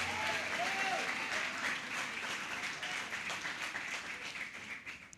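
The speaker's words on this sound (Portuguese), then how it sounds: "Mais uma vez, aplauda e dê glória a Deus." A church congregation applauds during a sermon, with dense, steady clapping that fills the room, stays loud throughout and tapers slightly near the end, with a brief voice at the start.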